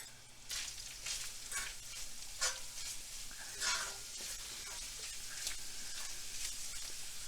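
Onions and mushrooms sizzle steadily in a hot pan, a constant frying hiss broken by scraping stirs and occasional louder spatters, fairly close with no talking.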